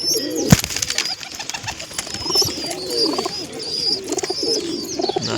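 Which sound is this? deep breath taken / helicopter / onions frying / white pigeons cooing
white pigeons cooing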